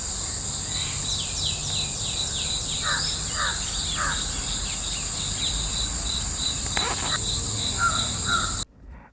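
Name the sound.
crows cawing around a tree in Bandipur forest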